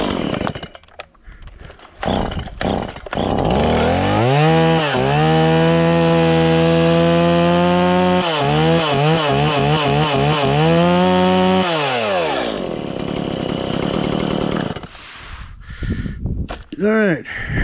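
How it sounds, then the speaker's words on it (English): Two fueled Stihl chainsaws, an MS170 and an MS171, with freshly sharpened chains: a loud, close engine starts up, revs in rising and falling bursts, settles, revs again, then cuts off. "Both these saws have been fueled up,"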